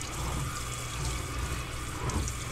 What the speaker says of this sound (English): So I'll rinse this. You want to rinse it very well.